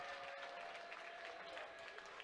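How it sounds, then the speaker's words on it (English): Steady applause from a crowd at a girls' high school basketball game, a continuous patter of clapping at moderate volume throughout, heard from a distance in a large gym. "Sarah Shaw will come in for Ionara and gets a nice round of applause."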